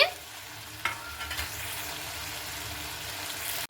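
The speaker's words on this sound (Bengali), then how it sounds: "আলুটাকে আর পেঁপেটাকে দিয়ে খুব ভালো মতো করে কষিয়ে নেব মশলার সঙ্গে" Potato and papaya frying with spices in a pan, a steady close sizzle throughout with brief stirring scrapes and clatters near the start.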